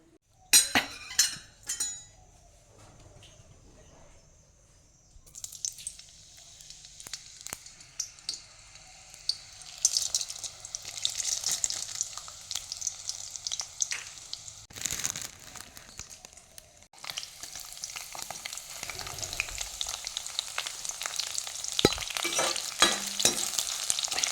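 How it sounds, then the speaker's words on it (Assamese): Onion and chickpeas fry in oil for an Assamese dish, beginning with sharp rattling bursts and then building into a loud, busy sizzle with stirring, crackles and pops that grow fuller toward the end. "এনেদৰে যেতিয়া ফাটি যাব তেতিয়াই বুটটো ভজা হৈ গৈছে।"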